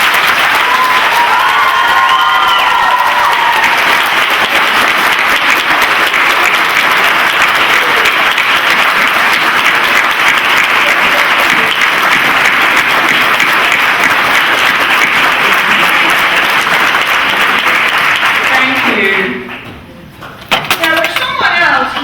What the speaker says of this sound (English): Would you please acknowledge their efforts by your applause and your thanks?